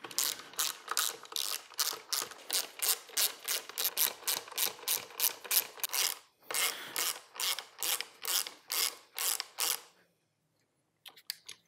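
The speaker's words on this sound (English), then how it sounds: "With your ratchet wrench and a 5mm hex bit socket" A ratchet wrench fitted with a 5mm hex bit socket drives bolts on a Rhino Pro-Series gas post driver, giving close, crisp rhythmic ratcheting clicks in steady strokes for about ten seconds, then a short break and a couple of faint clicks.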